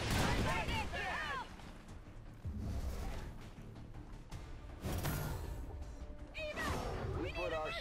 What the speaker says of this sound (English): Yeah, that's gonna be a grenade.